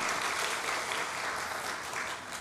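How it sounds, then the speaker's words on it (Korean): Korean church congregation clapping together to welcome fifteen visiting church officers, a dense, loud, even burst of applause filling the room. "잠깐 우리 박수 한번 할까요?"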